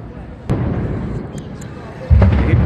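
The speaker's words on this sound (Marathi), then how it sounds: "सिलेंडरच्या स्फोटांवर स्फोट होत आहेत." Gas cylinders burst in a burning warehouse in Versova, Mumbai, heavy thuds and cracks going off at a distance, with a big boom near the end, under people talking.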